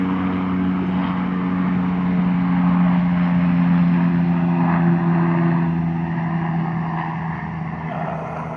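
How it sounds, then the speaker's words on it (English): A low-flying helicopter's steady engine drone hangs overhead for the whole stretch, loud and continuous with a rumbling hum, slowly easing off near the end. "Nope, it was a helicopter."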